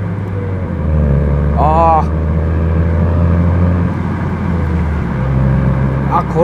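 A Honda Civic FK7 turbo with a manual gearbox hums loudly from inside the cabin, its engine note dropping and shifting with gear changes, and a brief voice exclamation comes partway through.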